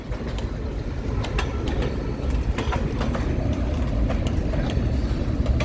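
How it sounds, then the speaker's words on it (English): An empty freight train rolls past, a steady, dense rumble of wheels on track with rattling cars and faint clanks, close and continuous throughout. "Yeah, this is a fully empty train."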